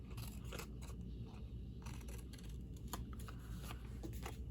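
Quick, crisp snipping and rustling of scissors trimming paper for a handmade card, close by, in short irregular bursts over a low steady background hum.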